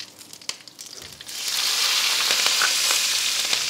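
Mustard seeds, asafoetida and curry leaves drop into hot oil, with a few small clicks at first, then a sudden loud, sustained crackling sizzle that holds steady.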